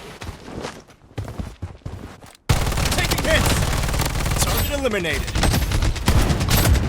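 Shotgun gunfire in the online shooter Project BloodStrike, a dense run of loud close blasts with rattling impacts and footstep-like clatter, starting after a quieter stretch and continuing steadily to the end.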